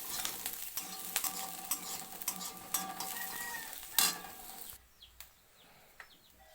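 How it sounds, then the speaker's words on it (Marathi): Red lentils (masoor dal) being stirred into fried onion in a pan: a continuous sizzle with scraping spoon strokes, loud and close, then the frying drops to a quieter hiss near the end, with no talking. "अशी मसुरी डाळ हलवायची"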